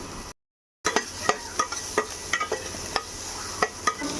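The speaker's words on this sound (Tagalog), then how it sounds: "Igisa na sa sibuyas at sa bawang." Ground beef with onion and garlic sizzles in a frying pan, a steady close hiss punctuated by regular scraping stirs of a utensil, following a brief moment of silence.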